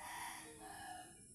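A rooster crows outdoors during a walk, a fairly loud, drawn-out call that holds steady across the short moment before fading slightly at the end.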